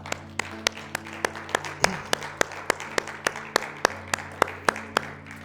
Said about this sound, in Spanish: Desen un fuerte aplauso a ustedes mismos.